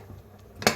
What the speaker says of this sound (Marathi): कुकरचं झाकण लावून